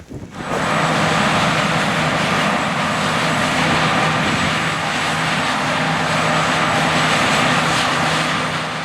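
A 620 hp John Deere 9620R tractor seeds soybeans at 9.5 mph through chopped winter wheat residue on a Western Kentucky farm, giving a loud, steady engine drone with wind noise and no talk.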